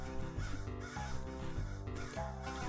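A crow caws in the spooky forest of the video game Witchhazel Woods, its repeated calls sitting over steady, looping background game music.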